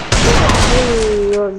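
A one-tap headshot gunshot in a shooting video game's Lone Wolf mode: a sharp, loud blast with a noisy tail, with a voice running over it.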